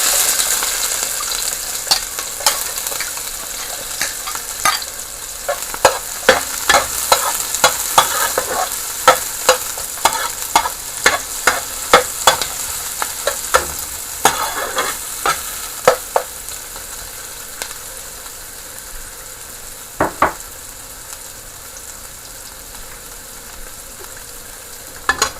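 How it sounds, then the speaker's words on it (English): Chopped onion, garlic and pepper dropped into hot oil, sizzling steadily while a utensil stirs and scrapes the pan in a run of sharp clicks that thins out toward the end, no talking. "I'm gonna throw in this onion, garlic, and pepper to fry a little"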